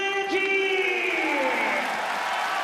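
A large crowd at Yokohama Arena for a featherweight MMA fight card roars and cheers, a dense sustained swell of voices with whoops rising over it, loud and close throughout.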